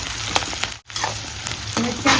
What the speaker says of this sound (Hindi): धो लेके पहले मिर्चा तल ले लूँ